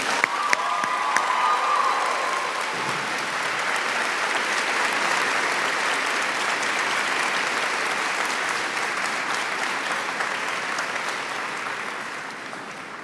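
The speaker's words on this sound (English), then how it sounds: "we could give him a big round of applause and thank you" A big round of applause from the audience at a senior awards ceremony, sustained crowd clapping with some cheering that fills the room and stays steady, easing slightly toward the end.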